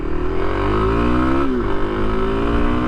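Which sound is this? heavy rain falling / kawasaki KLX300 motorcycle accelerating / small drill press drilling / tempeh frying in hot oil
kawasaki KLX300 motorcycle accelerating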